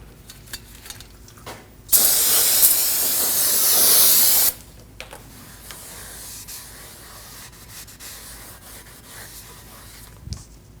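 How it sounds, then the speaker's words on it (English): Brake parts cleaner sprays onto a new brake rotor for a 2015-2022 Chevrolet Colorado in one loud, steady hiss of about two and a half seconds, then stops, leaving quiet shop ambience behind it. "Now I'm going to use some brake parts cleaner and a rag to clean up the oil that comes on our new rotor."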